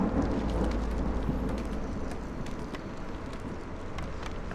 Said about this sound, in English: And here comes the storm.